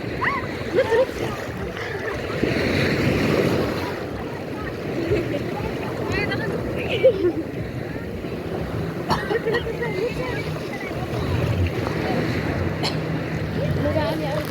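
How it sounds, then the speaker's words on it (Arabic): High ocean waves surge and break on a beach at a North Coast shore, a broad continuous wash of surf and water with scattered splashes, while people talk and shout over it. "الموجة عالية أوي."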